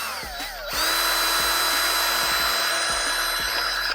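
Power drill with a bit spinning up and drilling, a loud close whine rising then holding steady, with repeated low thumps and rattles as the bit bites, no talking.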